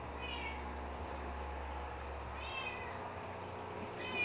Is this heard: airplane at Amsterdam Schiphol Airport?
no